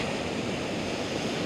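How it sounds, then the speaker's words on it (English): Water flows over rocks and spills over the side in an outdoor stream, giving a steady, broad rushing roar with no breaks, close and moderately loud, with no voices. "that's where that water flows over the side"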